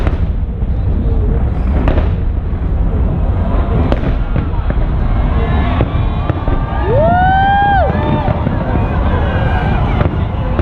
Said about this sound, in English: I love how they get bigger every time they explode.